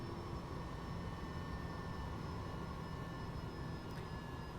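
A Bell 429 helicopter simulated in X-Plane 11 gives a steady, dense engine and rotor roar with faint high whines, unbroken and even throughout.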